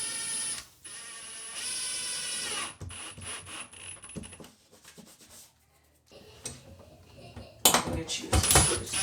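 Wall anchors being screwed into a wall, giving irregular ratcheting, clicking mechanical turns over several seconds, mixed with voices talking and a few louder bursts near the end.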